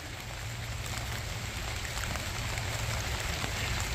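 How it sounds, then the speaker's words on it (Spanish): Steady rain pours down in Wapato, Washington, in a continuous, dense hiss, with a low rumble underneath and no voices. "Es un día de mucha lluvia. Desde ayer estaba lloviendo."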